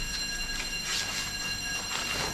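A hotel fire alarm sounds at midnight in Bangkok, a continuous high-pitched electronic tone that pulses steadily and stays at constant moderate loudness throughout, with no voices.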